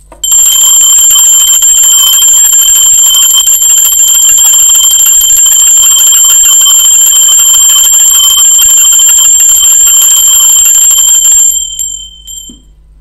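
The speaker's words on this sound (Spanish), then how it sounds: "Va campana" A bell rings loudly and steadily, sustaining a bright metallic shimmer for about eleven seconds before cutting off and leaving near silence.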